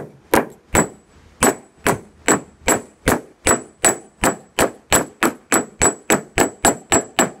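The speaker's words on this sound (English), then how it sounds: "I'm just gonna hit that down and straighten this cold." A hammer strikes a metal thrust washer from a Honda S600 rear chain drive, flattening it cold. About seventeen sharp, ringing blows fall close by in a steady rhythm that speeds up slightly, with nothing else heard.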